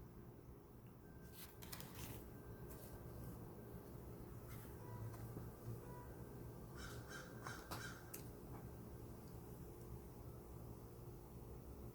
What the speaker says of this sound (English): Here, Crow.